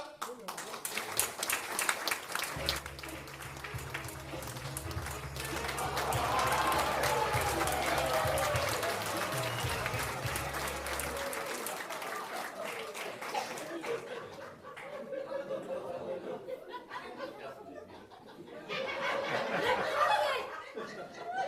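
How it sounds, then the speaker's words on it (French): A live comedy stage audience claps for a performer's assistant, the clapping mixed with laughter and talk, fading toward the middle and then returning in a second short burst near the end. "Je vais vous demander d'applaudir également mon assistante, Sonia."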